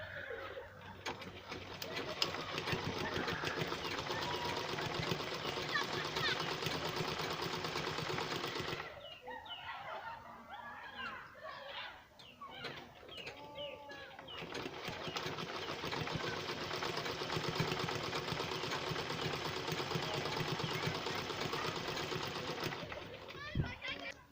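A sewing machine stitches the band of nightwear boxers, a steady close mechanical whir that pauses briefly midway before resuming, with voices and children faintly in the background.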